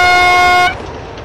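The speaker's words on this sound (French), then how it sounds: "à chaque tunnel, le train sifflera toujours deux fois" A loud, steady train whistle sounds one sustained blast before a tunnel, then cuts off abruptly, leaving a low rumbling background.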